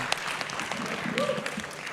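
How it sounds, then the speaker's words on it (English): An audience at a fintech festival panel session applauds, a moderate wash of clapping from a room of people with voices mixed in underneath. "Let's have a round of applause for this panel"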